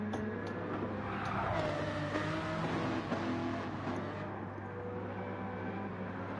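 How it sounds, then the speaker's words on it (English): A Lamborghini Murcielago V10 engine racing in Gran Turismo 7 gives a steady, continuous droning note that shifts gently in pitch, heard fairly faint and without any talk. "Cannot go wrong with the noisy V10 engine."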